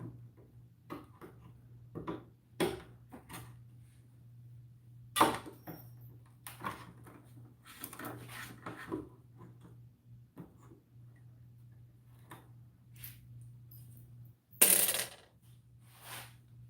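Wiha cutters snipping through staples, a series of sharp isolated clicks and snaps spaced irregularly over a low background hum, ending in one loud crisp cut.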